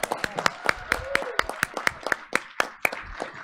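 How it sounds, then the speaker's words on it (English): Scattered hand claps from a small crowd at a board of education meeting, sharp irregular slaps forming light applause that carries steadily throughout. "Let's give them one more round of applause."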